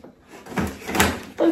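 A drawer slides and bumps in a short indoor sequence of wooden scrapes and knocks, close and moderately loud.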